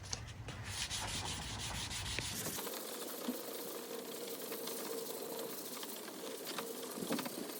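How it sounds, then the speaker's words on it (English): Wet sanding of a plastic car spoiler with 1000-grit sandpaper on a Lexus IS250 front lip, heard as steady, close rubbing strokes in a continuous rasp. Faint bird calls come from the background. "Now to make it smooth, I will use 1000 sandpaper."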